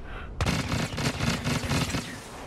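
A blaster in Star Wars Battlefront fires in a rapid, dense burst of close, punchy shots after a brief quiet moment.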